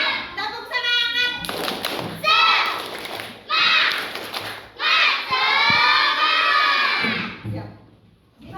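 A classroom group of children shouts a rhythmic spirit chant in bursts, with claps and thumps between the loud, energetic calls.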